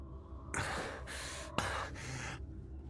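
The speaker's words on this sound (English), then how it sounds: "I'd actually initially done the breathing sounds myself." Two long, heavy breaths, sharp intakes that each hold for about a second, are used as a character's breathing sound effect in an animation; they are close and clear, and no voices are heard.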